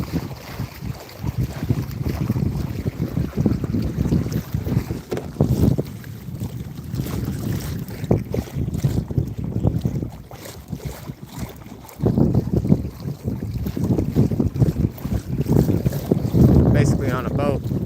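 A modified kayak pushed along by a 30-pound-thrust electric motor, heard outdoors as rushing water and heavy wind buffeting the microphone, with splashes and bumps, loud and close, with voices talking at times.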